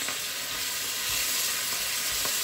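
Ceps and hedgehog mushrooms sautéing in a pan for a wild boar civet, a steady, close, even sizzle holding for the whole moment with no voices.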